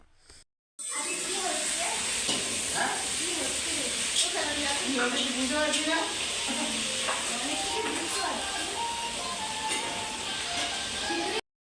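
Teachers cooking khichuri bhog at a college Saraswati puja, a continuous sizzle and stirring hiss from a large pot, with someone talking over it after a brief pause at the start.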